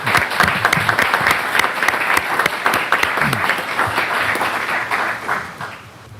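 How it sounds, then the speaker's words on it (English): Audience at a city council meeting applauds the fire chief, a lively burst of many hands clapping in a room, fairly close and even, gradually thinning out over about six seconds. "why don't we give Chief Lorenzo a round of applause"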